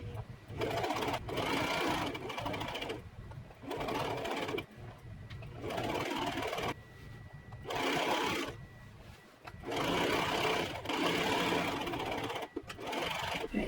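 A sewing machine stitches pockets onto a skirt in several bursts of rapid whirring, close and steady, separated by short pauses.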